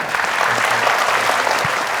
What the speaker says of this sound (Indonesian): terima kasih tepuk tangan untuk saya